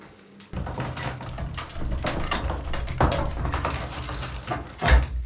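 A shovel levered against the earthen wall of a cave house under renovation, giving a continuous grinding, creaking scrape with crumbling debris and a sharper crack near the end.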